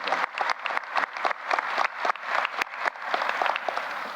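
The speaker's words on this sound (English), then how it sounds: "Let's give them a hearty round of applause." Sustained applause from a university investiture ceremony crowd, steady clapping that swells slightly, with no talking.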